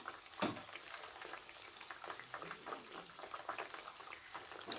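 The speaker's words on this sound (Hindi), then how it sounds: "अब दोबारा हम इसको पलटेंगे कि अच्छी तरह क्रिस्पी फ्राई हो जाए" Fish frying in oil in a pan for a Peshawari fish fry, a steady, quiet crackle and sizzle of bubbling oil with one brief louder pop near the start.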